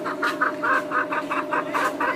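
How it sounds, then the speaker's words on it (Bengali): Chickens cluck near a house in a rural area, a loud close run of about ten rhythmic clucks one after another, with no talking. "মুরগি দেখা যাচ্ছে কারো ঘরের পাশে"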